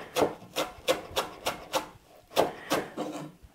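A knife chops cilantro finely for salsa on a cutting board, giving about nine quick, close thuds in a steady rhythm with a brief pause partway through.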